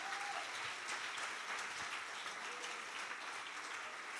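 A church congregation applauds in a steady, even wash of clapping, moderately distant and faint, sustained the whole time without a break.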